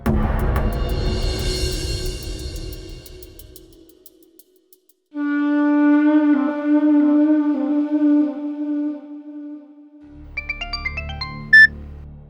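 A telephone ringtone sounds during a call: a steady electronic ringing tone with a repeating melodic pattern, clear and close after a stretch of other noise, followed by a brief bright chime.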